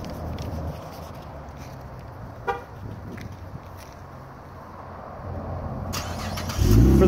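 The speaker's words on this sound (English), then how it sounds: "For the remote start, you just lock the car and you just hold down the remote start." A 2014 Chevy Camaro's engine is started remotely: a quiet idle rumble and a brief horn chirp, then the engine catches near the end with a louder low roar.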